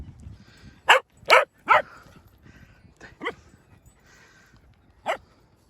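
Dogs out on an active outdoor walk let out several short, sharp barks and yips in a quick cluster, then a couple of softer yelps and one last bark, close by against quiet surroundings.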